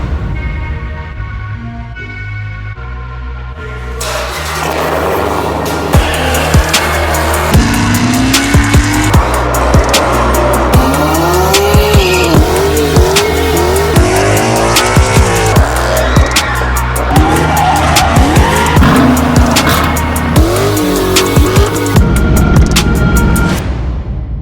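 A 1200-horsepower Dodge Challenger Hellcat roars hard on a two-step launch, its loud, dense engine note broken by sharp pops and crackles that repeat throughout, after a quieter idle at the start.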